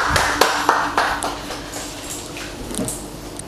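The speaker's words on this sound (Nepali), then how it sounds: "उहाँलाई हामी तालीका साथ स्वागत" Scattered applause from a church congregation welcoming a pastor, a few sharp claps at first and then a softer patter that fades.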